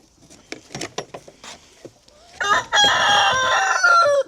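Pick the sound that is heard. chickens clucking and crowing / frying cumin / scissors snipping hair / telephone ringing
chickens clucking and crowing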